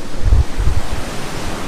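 Water rushes out of a river dam gate as a steady, loud roar with low rumbling gusts near the start, like heavy surf.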